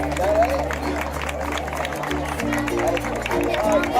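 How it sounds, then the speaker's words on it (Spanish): An audience claps steadily at a school reading-award ceremony, a continuous patter of applause mixed with crowd murmur and a steady tonal hum underneath, with people talking throughout. "De segundo, un fuerte aplauso también para él."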